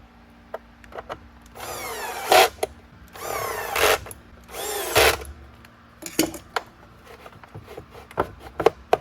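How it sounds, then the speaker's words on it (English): A power screwdriver sinks three screws back into a Riccar Supralite vacuum cleaner housing during a rebuild, three whirring bursts with clicks and handling noises in between, close and alone. "So I'm just going to sink those 3 screws back in."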